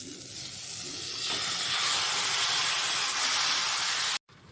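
Marinated tandoori chicken sizzles in a covered kadai, giving a steady broad hiss that swells slightly and runs loud and close until a sudden brief cutoff near the end.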